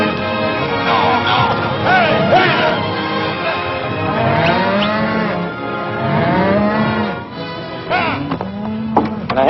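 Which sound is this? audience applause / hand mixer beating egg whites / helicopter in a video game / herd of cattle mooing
herd of cattle mooing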